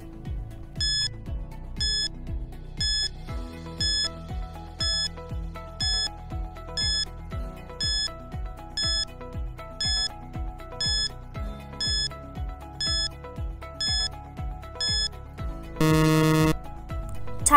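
Repeated electronic timer beeps ring out at a steady pace, roughly once per second, in a classroom napkin-folding lesson for food and beverage services, ending with a louder burst of alarm tone near the end.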